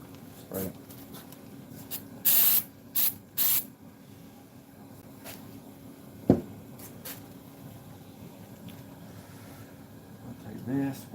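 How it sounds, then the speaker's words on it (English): An aerosol spray can hisses onto the dash of a 1964 Cadillac being recovered, in three short bursts close to the microphone, followed by faint handling noises and a sharp tap. "Spray it."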